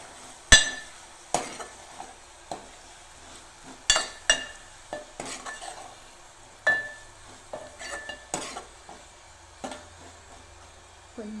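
A spoon scrapes and clinks against a pan as chilli powder is stirred into hot oil for okra tamarind stew, with sharp intermittent knocks over a faint low sizzle.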